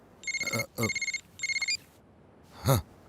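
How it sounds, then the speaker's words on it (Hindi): Telephone ringing in three short electronic trilling bursts with brief gaps, close and fairly clear, followed by a brief voice or breath sound at the end. "Phone uncle."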